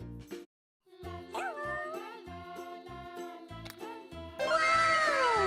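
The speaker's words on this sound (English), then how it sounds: "This is a cat." A cat meows a few times over bright, bouncy background music, the calls rising and falling in pitch near the start and a busier, louder stretch of sound toward the end.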